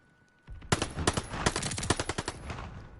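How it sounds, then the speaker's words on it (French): Rapid automatic gunfire from the video game Call of Duty Vanguard: a loud, dense burst of overlapping shots that starts abruptly and keeps firing for about two and a half seconds, with no talking. "je tire dans sa tête, il crève pas quoi"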